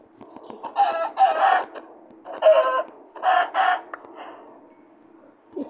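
Clucking of a chicken in the Minecraft video game, in several short bursts of squawks with brief pauses between them, fairly loud and alone.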